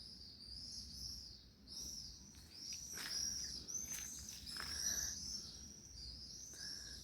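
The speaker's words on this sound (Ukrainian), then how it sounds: "пташки співають, як цвірінькають" Small birds chirp and tweet intermittently at a moderate distance, short high calls repeating over a steady outdoor background hiss.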